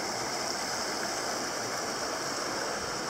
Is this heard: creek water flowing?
yes